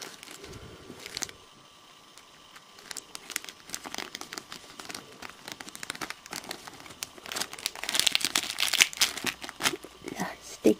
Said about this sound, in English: I've snipped the packet open. So let's get these cards out